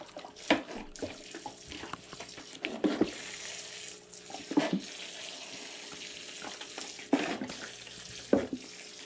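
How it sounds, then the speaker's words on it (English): A lilac bonsai tree is watered, giving a soft, steady trickle and splash of water onto soil with several louder bursts of pouring at irregular intervals, close by. "Give this one a little watering."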